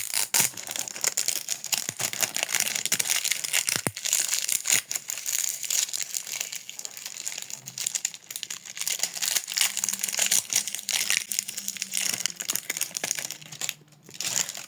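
Crinkling plastic and paper packaging being opened around a makeup eyeshadow palette, a steady close rustle with scattered crackles and a few sharp snaps, no talking.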